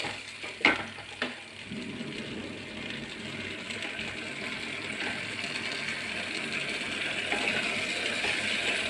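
An egg chilli sauce bubbling and sizzling in a kitchen pan, a steady crackling simmer that grows slightly louder over about nine seconds, after two sharp utensil clicks near the start.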